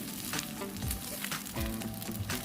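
Food frying in an Imarflex electric multi-purpose pot, uneven heat with edges undercooked and the centre scorching; a steady close sizzle and crackle with soft stirring scrapes, no talking.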